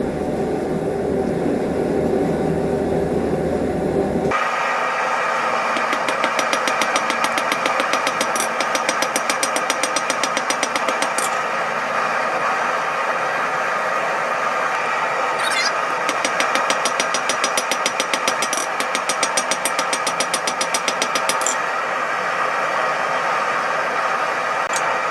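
A Damascus steel billet being forged for a Scottish dirk, a long run of fast, even mechanical strikes hammering steadily at close range over a constant roar.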